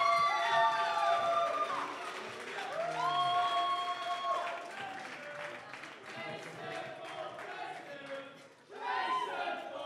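Applause with cheers and whoops fills a hall after the new Lancaster University Students' Union president is announced at an election results show. The sound is dense and sustained, with voices rising over the clapping.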